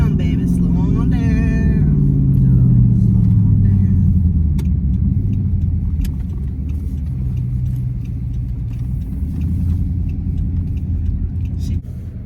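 A Dodge Charger SRT8 engine rumbles loudly as the car drives, with a deep tone falling early on and then a steady growl beneath ongoing conversation inside the car.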